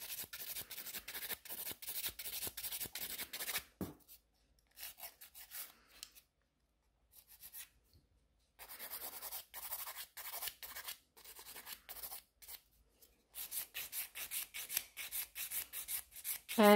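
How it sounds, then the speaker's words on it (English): A 100 grit nail file smooths a black French gel nail extension, quick rhythmic scratchy strokes close to the ear, broken by short pauses and lighter patches before resuming vigorously. "It's much faster to file with 100 grit side."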